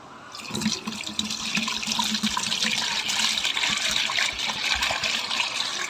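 A neem, pongamia and castor plant extract pours steadily through a five-micron filter cloth over a plastic mesh, a loud close splashing trickle that runs without a break and has no talk.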